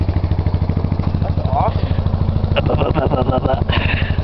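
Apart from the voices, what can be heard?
old Timber Wolf motor running after starting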